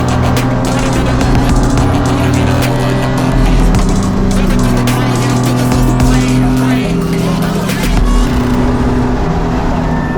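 A Porsche race car on its warm-up outlap before a sprint race, its engine droning steadily and loudly up close for the whole stretch, with tire noise and no pause in the sound.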